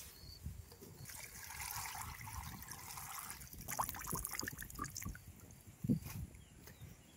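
Leafy vegetables, a red amaranth-type greens, being rinsed under water, with a soft continuous trickle and splashing, light dripping and a few handling knocks, fairly quiet and close.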